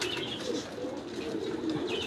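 Pigeons with big heads, wide eyes and helmet-sized builds coo softly in a continuous, slightly muffled murmur, with faint chirps and wing rustles mixed in at close range.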